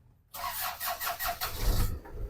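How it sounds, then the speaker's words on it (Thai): A Ford 2.9-litre four-cylinder diesel pickup engine cranks with a rapid chugging churn, then catches and settles into a low rumbling idle, recorded close by with no talking. "เดี๋ยวฟังเสียงเครื่องนะครับ เดี๋ยวผมจะตัรเครื่องให้ดูนะครับ ให้ฟังนะครับ"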